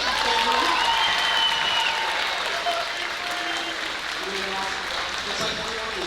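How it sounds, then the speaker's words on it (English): Audience applause at a middle school band Christmas concert rises for a flute solo, a sustained crowd of clapping hands that stays full and even throughout, with voices mingled in. "please give a round of applause for that beautiful flute solo"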